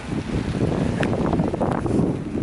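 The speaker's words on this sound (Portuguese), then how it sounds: "Tá ventando." Wind gusts across the microphone outdoors in the early morning during light rain, a continuous rough rushing with faint brief ticks throughout.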